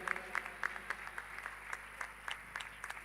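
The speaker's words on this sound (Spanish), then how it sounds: "le damos un aplauso" A crowd applauds steadily, a dense wash of clapping with a few louder claps on top, heard from some distance.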